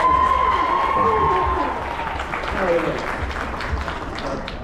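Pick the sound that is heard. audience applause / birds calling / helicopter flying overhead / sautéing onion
audience applause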